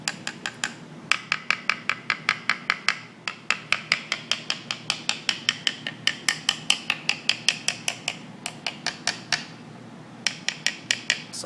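Rapid knocking taps across solid and hollow areas of a guitar body, dozens of quick light strikes in bursts with short pauses, their tone shifting between sections.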